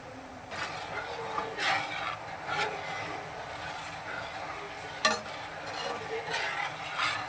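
A Kerala lentil payasam thickened with coconut milk is stirred in a pot, giving soft scraping and bubbling sounds in irregular strokes, fairly faint and close, with a sharper clink partway through.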